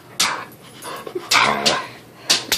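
Dog barking and whimpering indoors: sharp, close barks and yips come in quick bursts, with thin whimpers between them.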